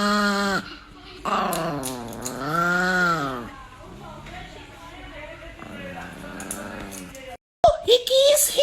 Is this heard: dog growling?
yes